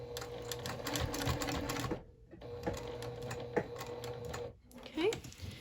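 A home sewing machine stitches a diagonal line across a fabric lanyard keychain in steady, close, rattling bursts, with short pauses between runs.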